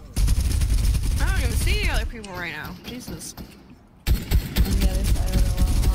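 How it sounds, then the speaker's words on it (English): Gunfire in a squad-based video game: several sharp shots crackle in the first seconds and again near the end, mixed under continuous, excited talk from players. "All it was showing was his head, so I just did two headshots on him"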